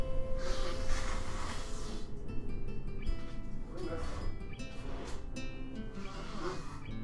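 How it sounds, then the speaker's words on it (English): A person with a cold blowing their nose, several forceful nasal bursts spread over a few seconds, close and fairly loud, with rustling in between. "I need to blow my nose again"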